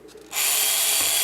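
A power drill whirs up to a steady high-pitched spin after a brief quiet start, as it pokes holes in the side of a thin, throwaway plastic container.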